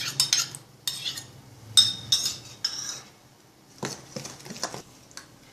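Idli batter being stirred with curd in a metal vessel, a spoon scraping and clinking against the sides in several short bursts with pauses between, close and fairly quiet, no talk.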